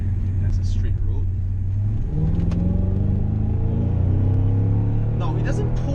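A Mercedes-Benz W219 CLS 55 AMG accelerates hard on a straight road. The engine note climbs steadily, drops briefly at a shift about two seconds in, then rises again, loud and close throughout.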